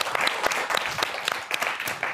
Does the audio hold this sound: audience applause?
yes